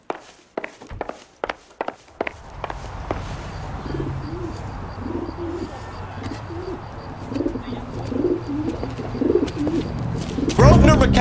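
Pigeon cooing in the L.A. Noire video game, a carrier pigeon heard as soft repeated coos in the middle of the clip, following a string of footsteps and set against steady low ambient noise.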